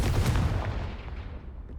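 A Confringo blasting spell detonating in Hogwarts Legacy inside a haunted house, a loud close boom with crackling bursts that decays into a fading rumble, no talk.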